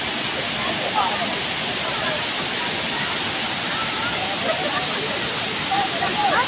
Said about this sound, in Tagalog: Tubig ng tubig dito sa Daranak Falls.